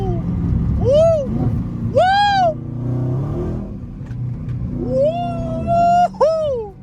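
A Scat Pack car with a custom steering wheel rumbles low and steady as it downshifts on the way to get gas, while excited voices whoop loudly over the engine in two bursts.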